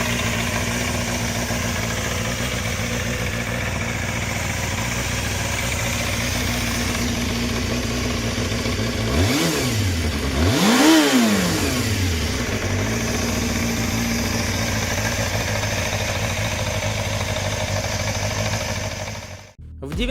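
Suzuki GSF Bandit motorcycle engine holding a steady loud note, then revving sharply twice around the middle with rising and falling pitch, settling back to a constant drone before cutting off at the end.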